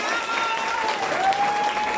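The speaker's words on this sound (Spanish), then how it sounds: "quiero que me regale un aplauso bien fuerte" Audience applause fills a quinceañera celebration with mariachi performers, a steady wash of clapping from a crowd with faint voices underneath.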